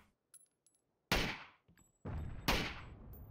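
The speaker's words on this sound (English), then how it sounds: "Speculative grenade." In the battle royale game PUBG, a few faint distant pops are followed by two loud, sharp grenade explosions roughly a second apart, each with a decaying rumble.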